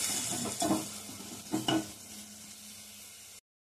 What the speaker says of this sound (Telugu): వీటిని మనం ఇప్పుడు ఎర్రగా వేగనివ్వాలి.